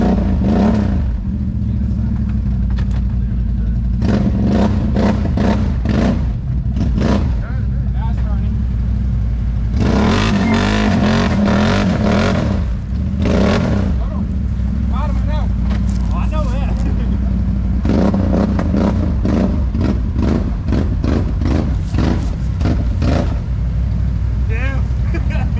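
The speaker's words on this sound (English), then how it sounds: "your one tire spinning ain't doing you no good" Off-road vehicle engine at a mud park revving and droning with a tire spinning, loud and continuous with repeated surges, while people talk and shout over it.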